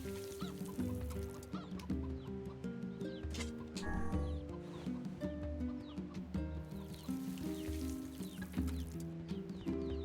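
Chickens cluck in a calm village scene in the video game NieR Replicant, repeated short clucks and squawks scattered over quiet background music at a modest level.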